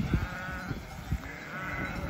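Sheep eating hay on a farm bleat softly in the background, with a couple of faint wavering calls over low rustling and livestock noise, fairly distant and not loud.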